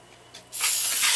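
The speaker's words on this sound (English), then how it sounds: "I'm going to use a synthetic PTFE in it. Spray it into the inner coils." Synthetic PTFE lubricant sprayed from an aerosol into the inner coils of a Hermle-made Hamilton clock mainspring: a loud, steady close hiss that starts after a brief quieter puff and continues to the end.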